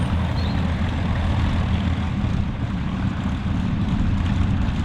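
An Avro Lancaster, NX611, taxis and is brought to a stop, its piston engines giving a steady, loud, dense rumble that stays even throughout with no voices.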